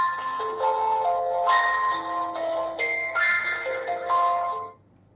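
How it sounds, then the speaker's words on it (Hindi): A Fire-Boltt Legend smartwatch plays its find-device ringtone, a bright melodic electronic chime cycling through repeated rising note patterns for about five seconds before cutting off, with no talk over it. "आपकी वॉच में होगा वाइब्रेशन और आपकी वॉच में बजेगा टोन।"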